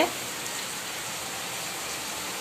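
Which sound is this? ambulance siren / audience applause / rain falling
rain falling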